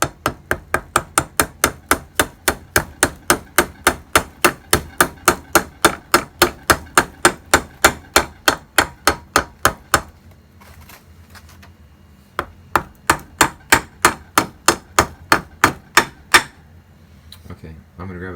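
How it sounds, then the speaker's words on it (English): Steady, rapid metal-on-metal hammer taps seating a part into a Ross SE545999 steering box from a 1965 International Scout 800, about forty close, sharp blows with a short pause partway through before the tapping resumes. "grab a hammer, slightly tap it in here"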